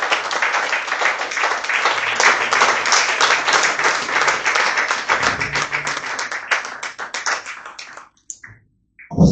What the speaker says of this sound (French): On acclame le Seigneur pour la parole.